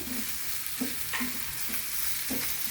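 Tomato frying in a pan for palak paneer, a steady soft sizzle with a few short stirring scrapes at intervals, fairly quiet and with no voices.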